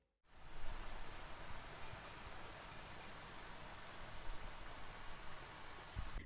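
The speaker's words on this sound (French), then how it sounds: "Parce qu'il pleut, tout simplement. C'est juste un temps pourri." Steady rain pours down, a dense continuous hiss of drops hitting surfaces, starting abruptly and holding at an even level.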